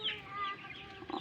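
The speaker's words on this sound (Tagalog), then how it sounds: "Lalaking manok. Lalaking Chinese chicken guys." A crossbreed rooster, Chinese chicken crossed with a native chicken, clucks once or twice close by, a short, faint call against a quiet background.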